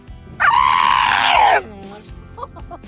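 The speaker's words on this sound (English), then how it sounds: "He didn't bark much. Instead, he screamed." Rescued pitbull dog letting out one long, loud, high-pitched scream of excitement lasting about a second, close up, followed by softer whines and small vocal sounds.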